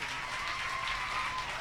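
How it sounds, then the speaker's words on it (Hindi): An audience applauds at a school teacher's day celebration, a dense even patter of many hands clapping throughout. "MBBS की ताली बजनी चाहिए इनके लिए"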